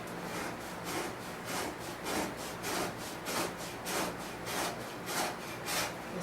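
An animal hide being scraped for parchment: a steady series of about a dozen rhythmic rasping strokes, evenly spaced and moderately close, with no talking.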